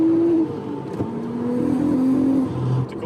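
Audi RS4 B5 engine revving on snow, a steady mid-pitched drone that rises and swells in uneven surges, loud and close throughout.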